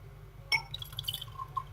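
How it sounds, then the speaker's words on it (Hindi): Ice cube clinks into a glass, followed by a few light drips and trickles as plum sharbat begins to pour in, close and quiet over a low steady background hum. "तो अब इसमें हम एक आइस क्यूब डालेंगे ग्लास में और थोड़ा सा शरबत हम डालेंगे।"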